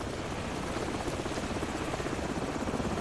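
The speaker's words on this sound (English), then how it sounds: "Hold on, the helicopter's back." A helicopter in the PC game Call of Duty 4: Modern Warfare thunders overhead, a loud, dense, continuous rotor roar with a rapid chopping pulse filling the whole stretch.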